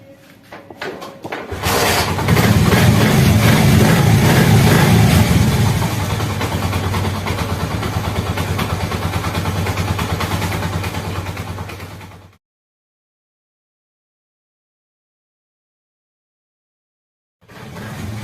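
A Honda CD 70 motorcycle engine starts and settles into a steady, close, loud idle with a rapid chugging pulse, then cuts off into silence before another engine sound begins briefly.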